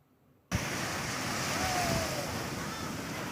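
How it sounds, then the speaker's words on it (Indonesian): Ocean waves crash at Ngudel beach in a loud, continuous roar of surf and wind that bursts in suddenly after a brief quiet start and holds steady to the end. "Deburan ombaknya sangat menyenangkan untuk dinikmati."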